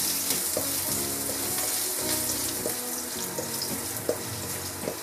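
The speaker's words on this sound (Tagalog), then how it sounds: "Start na tayo sa ating pagigisa. Unahin natin itong ating ginger, luya." Ginger sautéing in a hot pan, a steady close sizzle with faint scrapes and clinks, as the base for a simple pork lunch dish; background music plays softly underneath.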